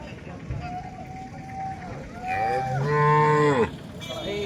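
A cow moos loudly and long at a Modnimb cattle market, one drawn-out call rising over steady crowd chatter and background voices.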